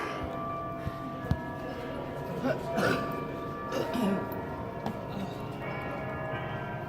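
A bell-like ding plays through speakers beneath the bell tower ceiling of Salamanca Cathedral, a large room, with some talking and a cough nearby.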